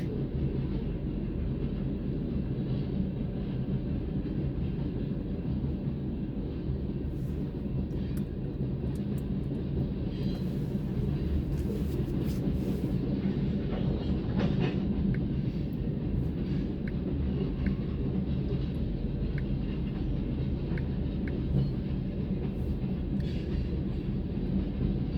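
A train rumbles steadily past with a heavy, continuous low roar and rattling, heard from inside a Kia Forte in San Marcos, Texas, without letup throughout.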